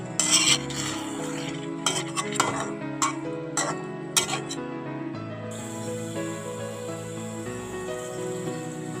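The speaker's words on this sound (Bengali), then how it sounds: "মাংসটা একটু কষিয়ে নেবো" Country chicken meat stirred and sautéed in a pot, with spoon scrapes and metallic clinks against the pot rim over a steady low simmer, busiest in the first half.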